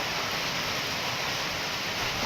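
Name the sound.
wind blowing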